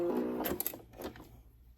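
A sewing machine puts a short run of stitches into fabric on a D-ring wristlet pouch, giving a quick close mechanical whirr and clatter that lasts under a second before stopping, with no talking.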